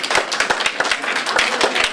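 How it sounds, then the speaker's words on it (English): A small audience claps for a chef, a short burst of quick, fairly close handclaps with an uneven rhythm, no talking over it. "So please give Tita Neria a clap"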